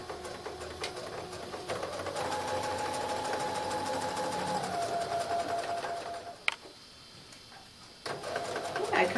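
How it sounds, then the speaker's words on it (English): A sewing machine runs steadily, stitching a skirt seam forward and then backward, its dense mechanical whir continuing for several seconds before a short pause and a restart near the end. "I'm going to stitch forward, and then I'm going to stitch backward several stitches to begin that seam"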